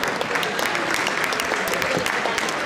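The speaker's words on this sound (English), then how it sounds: "Ladies and gentlemen, a round of applause as we see the final" Crowd applause rises at the finish of an indoor masters athletics race, a continuous wash of clapping from spectators in the arena.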